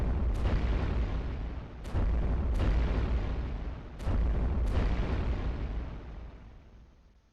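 Cannons in the video game iBomber Defense fire on ships in the Eastern Mediterranean, giving five sharp booming blasts spaced irregularly over a low rumbling bed. The blasts are fairly loud and there is no talking.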